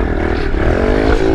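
A Kawasaki KLX 110 pit bike ridden on a dusty trail, its small engine buzzing loud and close with a steady, slightly rising pitch for a brief moment.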